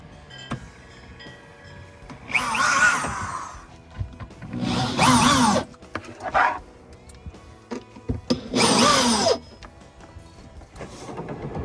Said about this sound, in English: you want to be sure that when you drill those holes that it hits right inside this center bracket